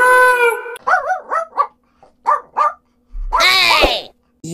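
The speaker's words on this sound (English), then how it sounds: "D for dog. D for dog." A cartoon dog barks in a few short yips, then lets out a loud, drawn-out howl with whimpering edges, the sounds spaced apart in a children's alphabet rhyme.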